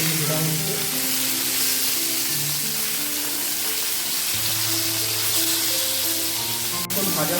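Long strips of whole potato sizzle steadily in hot mustard oil tempered with cumin, a dense, close hiss that runs unbroken, with a soft tonal hum beneath it.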